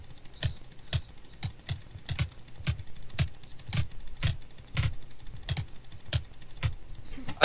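Rapid bursts of fast mouse clicking using the butterfly technique during a Minecraft PvP match, sharp close clicks in quick uneven clusters repeating steadily throughout.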